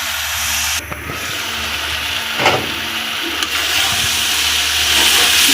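Cabbage frying in a pan gives off a loud, steady steamy hiss that swells near the end, with a few light clinks of stirring and no talk.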